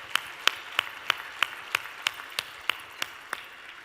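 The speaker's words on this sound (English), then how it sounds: "I just want to give you guys a hand clap for your attendance" A single person claps at a conference address, about eleven crisp, evenly spaced claps in a slow steady rhythm, close and fairly loud against a quiet room.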